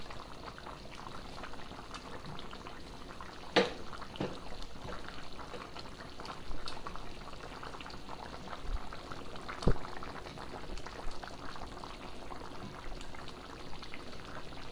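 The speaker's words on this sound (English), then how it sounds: "I'm going to drop them all individually in this boiling pot." Steady bubbling of a boiling pot with a few soft plops and splashes as dumplings drop individually into the water, close by and fairly quiet.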